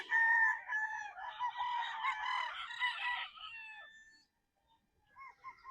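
A gray straight-comb gamecock rooster crows loudly and close on a game farm, one long multi-part crow followed by a quieter, shorter call after a brief pause, with no talking.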